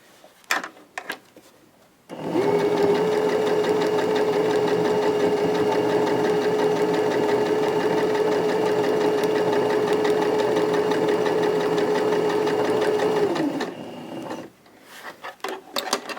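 A sewing machine runs one continuous stitching burst for about eleven seconds on a rag quilt bag, a steady close mechanical whir with faint handling clicks before and after.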